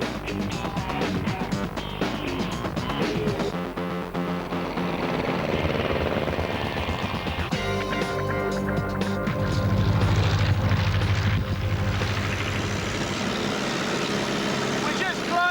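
A WW1-era aircraft engine droning steadily in flight, a loud continuous rumbling roar with shifting tone, heard throughout with a voice talking over it.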